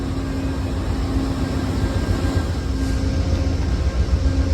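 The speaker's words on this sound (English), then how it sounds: "It's a long train." A steady low rumble of a long Amtrak passenger train rolling past, broad continuous noise with faint tonal hum, moderately loud and unbroken, no voices.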